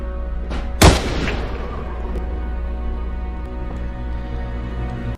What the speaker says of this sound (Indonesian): berkat tembakan menggertak yang Henry layangkan dari luar